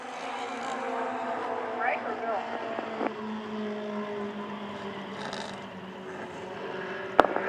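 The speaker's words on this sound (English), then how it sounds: "As they worked off turn number 2 down the backstretch for the final time here in this 6-lap 4-cylinder stock heat" Four-cylinder stock cars race a speedway heat, their engines droning at a distance beneath a commentator's steady talk, with rising and falling passes and a sharp bang near the end.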